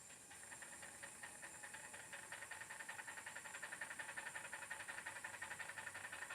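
The pump on a radio-controlled Bobcat skid steer model runs as a faint, airy hiss with a quick, even pulsing rhythm throughout, heard alone with no talking.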